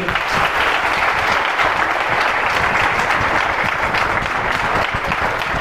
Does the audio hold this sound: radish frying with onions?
no